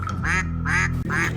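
A cartoon duck quacks three times in even, nasal bursts close up, over a steady low musical hum.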